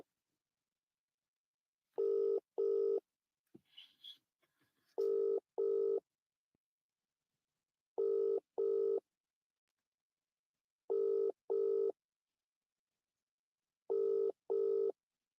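Telephone ringing in regular double-ring bursts, five pairs evenly spaced through the clip, loud and close with silence between the rings and a brief rustle near the start.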